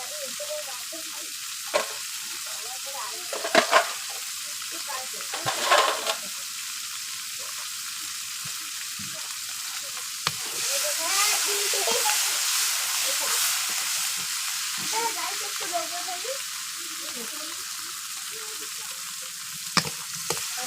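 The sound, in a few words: prawns frying in a pan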